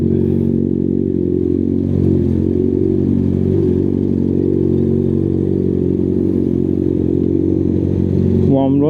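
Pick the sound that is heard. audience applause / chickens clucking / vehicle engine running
vehicle engine running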